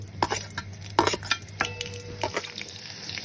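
Peeled, halved garlic cloves drop into hot oil for Bengali soybean kosha, a few sharp clinks and splashes followed by a soft, crackling sizzle in a quiet kitchen.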